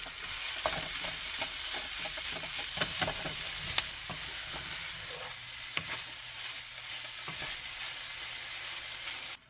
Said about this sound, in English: Add the diced beef and cook until well browned on all sides.